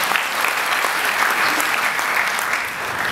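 A church congregation bursts into steady, dense applause during a sermon, a continuous wash of many hands clapping at close-to-moderate distance that holds evenly throughout with no voices rising above it.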